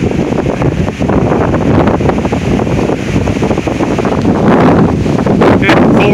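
Strong non-thunderstorm wind in Oklahoma, gusting around 45 to 55 mph, roars steadily and loudly with heavy buffeting against the microphone and no letup, with no voices.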